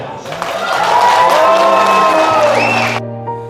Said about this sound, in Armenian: հիմա լսում ենք Փեսայի կողմի ծափերը։